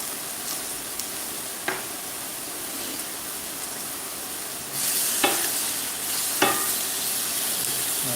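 Spam fries in avocado oil with a constant loud sizzle that swells midway. Several sharp scrapes and knocks of a utensil against the pan stand out as it is stirred.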